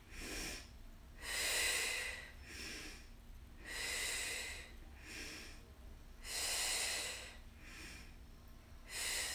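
Slow, deep breaths during Pilates mat leg lifts, with four or five long airy inhales and exhales in a steady rhythm, close and fairly quiet, with no talk over them.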